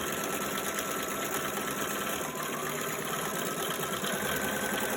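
A sewing machine stitches fabric around curves for a Valentine love-note envelope, running continuously as a close, even motor hum with rapid needle chatter and no voices.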